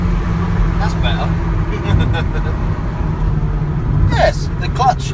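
A Ford Transit Connect van drives with its engine under load, a steady low rumble filling the cabin while people talk over it.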